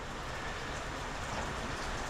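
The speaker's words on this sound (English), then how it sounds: "The rain has just been persistent ever since." Persistent rain falls steadily on the Appalachian Trail in Pennsylvania's Cumberland Valley, a soft, even hiss of drops on surfaces with no break.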